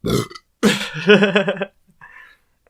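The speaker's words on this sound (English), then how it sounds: "every time I belch, it's fucking like on a show" A loud, close, drawn-out belch with a rough, rattling throaty tone, followed by a softer, brief trailing burp after a short pause.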